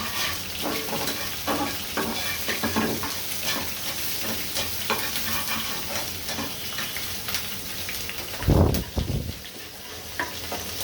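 Chopped onion and garlic fry lightly in a pan with a constant crackling sizzle. Repeated stirring scrapes run throughout, and a louder clatter comes near the end, all close by with no voices.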